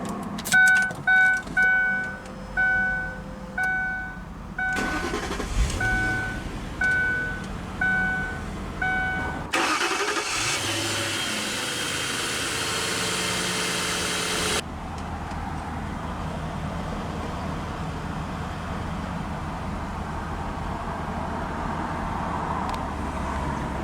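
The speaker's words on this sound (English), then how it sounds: "let's go ahead and start the engine" A 2003 Ford Thunderbird engine cranks with a few chimes and clicks, then catches and roars loudly before settling into a steady, low idle.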